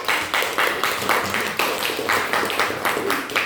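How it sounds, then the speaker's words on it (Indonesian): A classroom group claps together for the students who have just presented, a quick, regular run of sharp hand claps with no pauses throughout. "Tepuk tangan dulu untuk kelompok."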